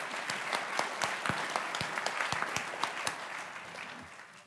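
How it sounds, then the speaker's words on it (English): Audience at a school board meeting applauds spelling bee students, a steady wash of clapping from many hands that holds fairly even, then thins slightly toward the end. "Let's give all of our spellers one last round of applause"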